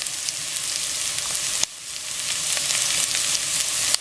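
Onion and carrot sautéing in a pan for macaroni soup give a steady, close hiss and sizzle. A couple of sharp clacks break through as the vegetables are stirred.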